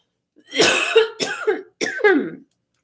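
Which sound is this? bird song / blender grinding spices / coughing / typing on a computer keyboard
coughing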